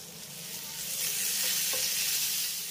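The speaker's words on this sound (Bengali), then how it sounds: "জলটা দেওয়ার পরও আমি 1 মিনিটের মতো এভাবে একটু নেড়ে চেড়ে নিয়েছি" Gram flour paste thinned with water sizzles loudly and steadily in a frying pan while being stirred, a dense hissing fry that swells slightly and holds.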